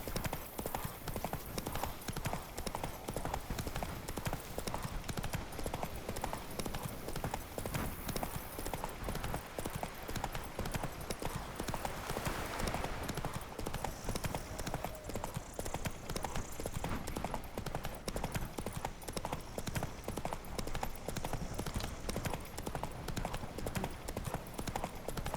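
Horse hooves galloping in The Witcher 3 video game, a steady rapid clip-clop that runs the whole time under dense game ambience, with a faint whinny partway through.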